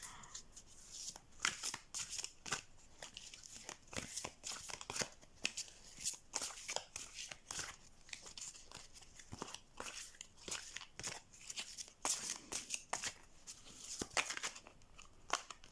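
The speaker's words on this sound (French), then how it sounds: "je vais mélanger les cartes et en tirer une" Oracle cards being shuffled by hand: irregular bursts of riffling and slapping card edges, close and crisp, repeating throughout with short pauses between bursts.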